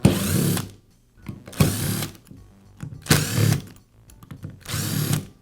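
A power driver removes four screws from the housing of a Dremel rotary tool, giving four separate whirring bursts with short quiet gaps between them, close and fairly loud.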